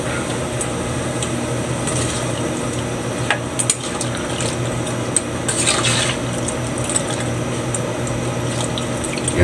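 Water is poured into a pot of native pork stew as it cooks, a steady rushing fill of liquid lasting several seconds with faint clinks and no talking.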